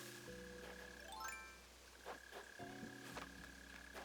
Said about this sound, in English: Oh my god, I hate this friggin' mole cricket.